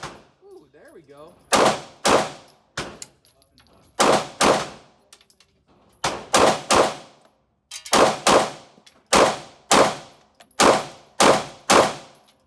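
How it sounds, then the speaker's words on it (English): CZ pistol firing NATO ammunition at a shooting range, with sharp, loud shots coming in quick pairs and short strings, each followed by a ringing decay and brief pauses between the groups. "So let's remember that I'm shooting NATO ammo."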